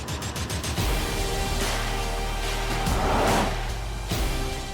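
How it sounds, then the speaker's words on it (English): A Bentley Bentayga, a 542 bhp luxury 4x4 SUV, accelerates hard. The engine note is a deep, steady drone that builds and swells, heard from inside the cabin, with no one talking. "When I accelerate, automatically you can hear the throat of the engine."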